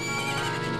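A horse in the game Majora's Mask gives a brief whinny over a dense, loud layer of game music, lasting under a second.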